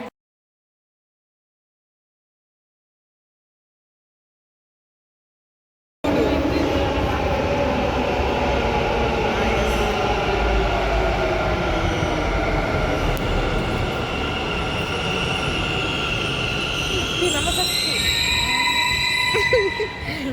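A Bangalore metro train ride begins after several seconds of silence, then a loud, steady rolling rumble with rising and falling motor whine continues to the end.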